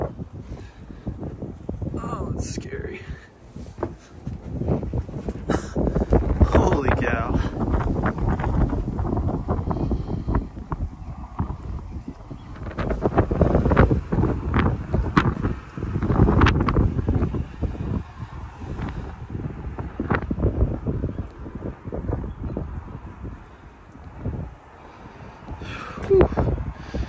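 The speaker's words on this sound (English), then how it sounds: "it's gonna be windy up here" Gusty wind roars and buffets the microphone throughout, rising and falling in loud surges, with someone talking now and then over it.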